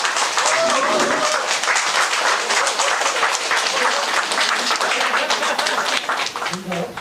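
Sustained audience applause at an association team-building gathering and cultural workshop, dense and steady throughout, with a voice briefly heard near the end.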